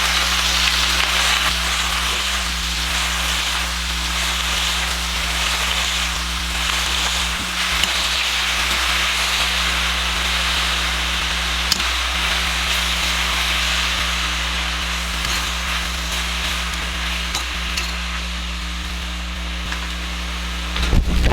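Chopped collard greens fry in olive oil, a steady, close hiss and sizzle lasting the whole time over a low constant hum, with a few faint clicks.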